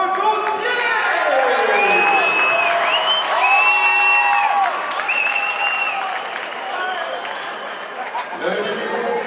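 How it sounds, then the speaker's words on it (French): Arena crowd applauding and cheering during player introductions at a semi-pro hockey season opening ceremony, loud and sustained, with a public-address voice and whistles or horns cutting in above the clapping. "Bonne main d'applaudissement"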